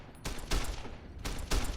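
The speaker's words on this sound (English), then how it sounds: "Why would you shoot at that one and not that one?" Bursts of gunfire from the video game Fallout New Vegas: two clusters of rapid shots about a second apart, loud and close with no talk.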